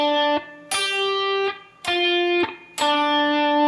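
An electric guitar plays a blues lick in G, starting with whole-step bends that make notes rise in pitch, then slides down the minor pentatonic scale; three or four sustained, slightly distorted phrases, close and without voices.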